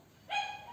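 A household pet dog gives a single short, tonal yelp or whine that rises sharply and then fades into a thinner trailing whimper, close by and moderately loud.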